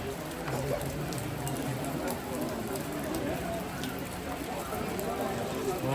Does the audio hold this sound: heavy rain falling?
yes